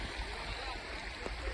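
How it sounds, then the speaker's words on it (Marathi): A small waterfall on a mountain trek toward Kalsubai peak gives a steady, dense rush of falling water that fills the whole moment, close and even, with no clear talk over it. "हे बघा किती मस्त धबधबा छोटासा"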